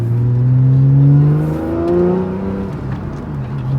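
A Porsche 911 fitted with Fabspeed headers pulls hard through second and third gear. Its engine note climbs loud and close, eases at the shift, then rises again in a steady, droning howl.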